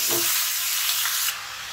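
Crushed onions and chillies dropped into hot mutton frying oil in a saucepan give a loud, steady sizzle that cuts off abruptly near the end, with no talking.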